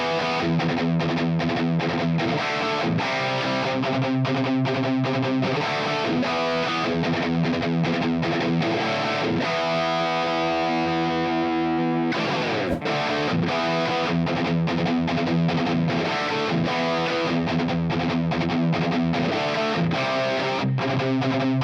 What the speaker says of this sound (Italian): questa chitarra si adatta moltissimo a suonare con distorsioni anche ben superiori a quelle che hai